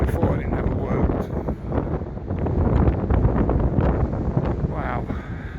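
Strong gusting wind on a cold, rainy walk in Blackpool buffets the microphone with a steady, loud roar that swells and eases throughout, and no words come through.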